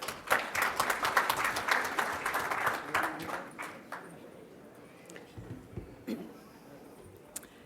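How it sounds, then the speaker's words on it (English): An audience at a Toronto cybersecurity panel event breaks into dense applause that fades after a few seconds into scattered claps and room noise. "Big round of applause."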